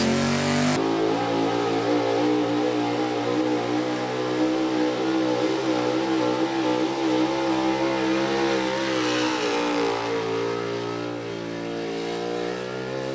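A big block 4x4 pulling truck engine roars at a truck pull competition, a loud sustained high-revving drone with a sharp onset that holds steady throughout, no voices.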